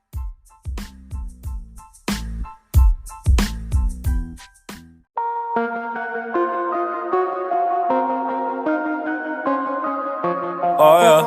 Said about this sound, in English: Here is the song of the week on Creatively Unfiltered.